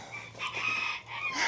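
Backyard chickens at a garden coop, a few hens clucking and vocalizing close by in a short, steady burst with no talking over them.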